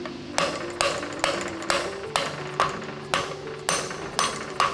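Regular light metallic taps repeat about every half second as a metal part on a shaft tinkles against a spacer while fitting a Panzer I engine, a bright ringing clink each time over a low mechanical hum.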